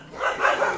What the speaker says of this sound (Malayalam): പരിചയമില്ലാത്ത എന്നെ കണ്ടിട്ടാണെന്ന് തോന്നുന്നു പട്ടികളാണെങ്കിലും ഭയങ്കര കൊര